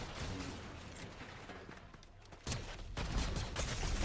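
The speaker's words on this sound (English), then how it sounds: "Who's shooting at us?" Gunfire in a chaotic exchange, dense crackling bursts of shots layered with rumbling blasts, growing louder toward the end.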